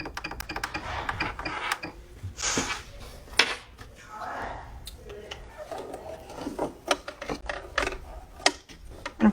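Sewing machine stitching fabric in a home sewing room, with short bursts of needle clatter and ticking, pauses, clicks and handling of cloth between runs.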